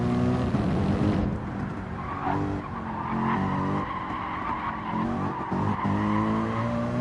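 Race car in a racing video game at Deep Forest Raceway, the engine blipping its throttle in quick uneven stabs while tyres skid and squeal, loud and close throughout.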